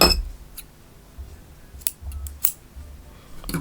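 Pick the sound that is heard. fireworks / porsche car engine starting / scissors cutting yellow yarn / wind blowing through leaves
scissors cutting yellow yarn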